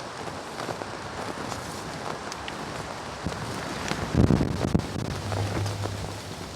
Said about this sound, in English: Gets pretty windy at this time of the year.